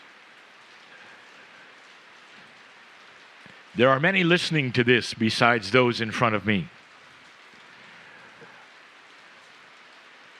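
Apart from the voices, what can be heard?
rain falling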